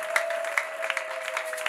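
A church congregation claps in a brief burst, a dense patter of many hands at moderate distance, with a steady tone running underneath.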